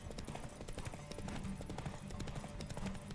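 Hooves of the horse Roach clip-clop in a steady galloping rhythm in The Witcher 3: Wild Hunt, running continuously and fairly loud.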